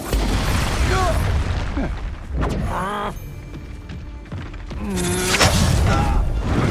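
Expulso blasting spells in the Hogwarts Legacy video game burst in loud, low booms during a wizard fight, mixed with mechanical clatter and shouted character voices, with a second strong blast near the end.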